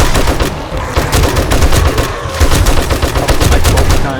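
Loud, close machine gun fire from the survival video game 7 Days to Die comes in rapid sustained bursts with brief gaps, dense and continuous over the whole stretch.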